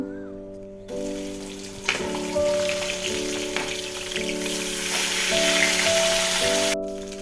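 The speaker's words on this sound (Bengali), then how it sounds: "তো এগুলো এক এক করে তেলে ভেজে নেব মাছগুলো।" Pieces of fish sizzle steadily in hot oil in a home kitchen, a close, continuous crackle that swells when more pieces go in, over a low hum.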